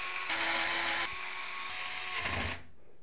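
A power screwdriver whines steadily as it drives case screws to fix a motherboard into an FSP CST130B PC case, with the pitch shifting as the screw seats. The sound is close and continuous, then stops abruptly.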